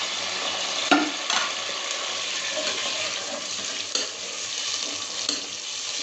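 Two roughly chopped onions frying in hot oil for chicken kadhi, giving a steady hissing sizzle close by with occasional stirring scrapes and clinks.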